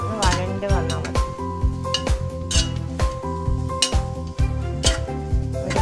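Small onions are sautéed in a pan for a vegetable pulao. Repeated clinks and scrapes of a utensil against the pan sound close by, over a faint sizzle.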